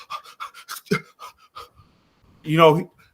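A voice imitates heavy, labored panting with a rapid string of short huffing breaths, followed by a longer voiced groaning exhale, close and loud.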